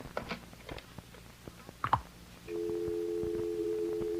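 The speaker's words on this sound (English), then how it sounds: "It's just a dial tone." A telephone dial tone in a radio drama: soft handling clicks and a brief thump, then a steady continuous tone begins about halfway through and holds to the end.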